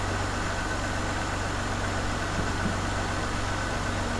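A Ford Escape engine idles steadily below 1,000 RPM, a constant low rumble with fine regular pulsing that holds at an even level throughout, close and with no voices.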